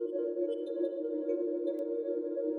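Sustained synth pad from a granular sampler drenched in heavy reverb, a held minor chord forming a smooth, steady drone with soft shimmering upper tones throughout.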